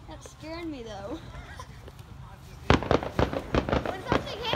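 A voice speaks at first, then close fireworks start firing in rapid crackling bursts, several loud pops following one another over the last couple of seconds.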